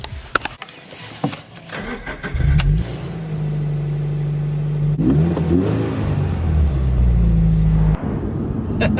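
A Toyota GT86 fitted with a Sprint Booster throttle module accelerates on a highway, its engine swelling into a loud, steady rumbling drone heard from inside the car, with a brief clunk and a shift partway through and a few clicks at the start.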